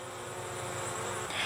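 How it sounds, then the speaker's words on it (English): Honeybees fan at the hive entrance during a swarm catch, making a soft, steady, droning buzz that stays even and faint through the short stretch. "Got our bees there that are fanning."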